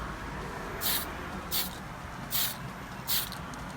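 Four short hissing bursts of aerosol spray paint on a Knights of the Slice Hyper Knight figure, evenly spaced, fairly close, over a low steady background rumble.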